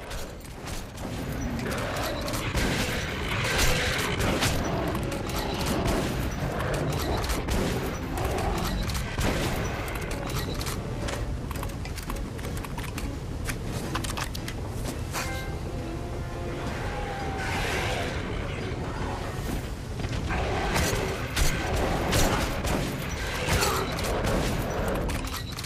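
Sustained gunfire in the video game Metro: Last Light, dense rapid bursts of shots with mechanical clacks and reloading sounds, loud and nearly continuous, with a few brief words of speech mixed in.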